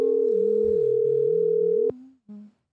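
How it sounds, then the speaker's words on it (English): Outgoing phone call tone: one long steady electronic tone lasting about two seconds, then a short second burst, close and clean with nobody talking. "I like the ringing. It sounds cool."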